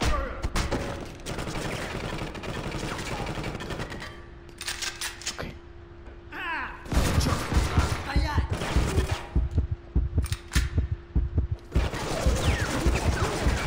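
Enemy gunfire in the Counter Spy video game, dense rattling fusillades that start and stop, with loud bursts through the second half over a continuous game soundscape.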